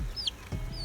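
Chickens cluck on a chicken farm, two short high calls close by over low background rumble, brief and without talk.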